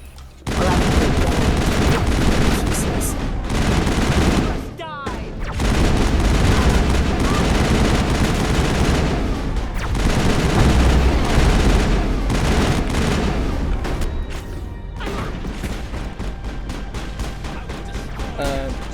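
Sustained bursts of assault rifle fire from the Mass Effect video game crackle loud and dense through most of the stretch, broken by a brief lull and mixed with game effects.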